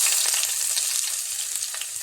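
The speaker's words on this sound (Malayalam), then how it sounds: "ഒരു ചെറിയ സവാള ചെറുതായിട്ട് അരിഞ്ഞത് നമുക്ക് അതിലേക്ക് ഇട്ട് കൊടുക്കാം." Finely chopped onion fries in hot oil with dried red chillies for a cauliflower curry, giving a close, loud, steady sizzle with no pauses and no talking.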